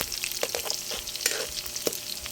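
Bopis sizzles steadily in a pan while a spoon stirs it, scraping and clinking against the metal in close, irregular strokes, with no talk.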